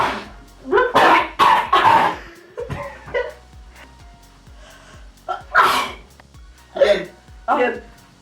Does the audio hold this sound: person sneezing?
yes